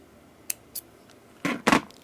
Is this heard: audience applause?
no